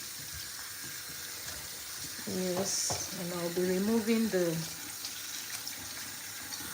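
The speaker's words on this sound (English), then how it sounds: "I'll start by putting a little bit of water now" Tap water runs into a bowl of sardines being washed, a steady splashing stream lasting a couple of seconds under a voice talking nearby.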